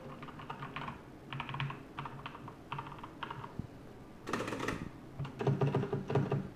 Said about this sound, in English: they use the brown switches on here, which means they are a lot quieter.